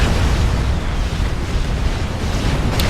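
Fat Boy cannons fire during a Supreme Commander battle, a dense roar of overlapping booms and explosions that stays loud and continuous.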